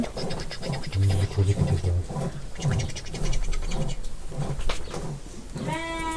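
Goats bleat amid a busy flock of goats and sheep at a village barn, with overlapping calls, a low hum and distant voices; one clear, nasal bleat stands out at the end.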